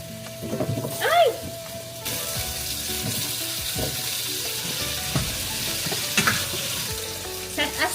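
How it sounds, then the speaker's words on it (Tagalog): Potatoes and carrots frying in a pan, a steady loud sizzle with occasional stirring clatter and brief tap-water sounds, continuous throughout. "Fry muna natin ang potatoes and carrots."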